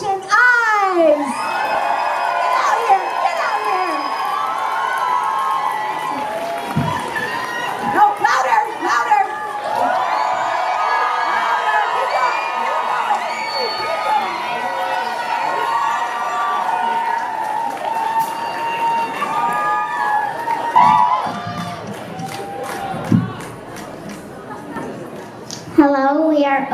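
A young rock camp band is greeted by an audience of kids and adults cheering, whooping and shouting, a dense crowd roar lasting throughout with a brief dip near the end.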